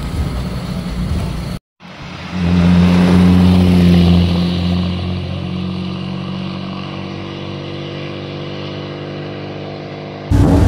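A historic rally car at the Monte Carlo rally pulls away after a brief cut, its engine revving loudly up close, then settling into a steady, gradually fading drone as it drives off.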